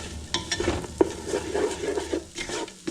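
Garlic and chopped leeks cook over low heat in a pan, a soft sizzle under repeated scraping strokes of a utensil stirring them close by.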